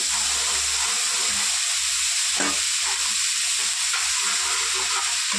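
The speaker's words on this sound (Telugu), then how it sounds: "నీట్గా ఫ్రై చేద్దాము ఒక టూ మినిట్స్ పచ్చివాసన పోయే వరకు" Ginger garlic paste frying in a pan for home-style spicy chicken noodles, a loud, steady close sizzle with occasional stirring scrapes throughout, no voices.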